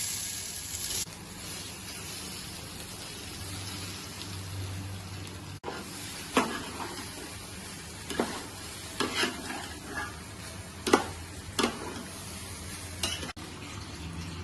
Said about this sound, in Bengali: এবার চাল তুলে দিচ্ছি।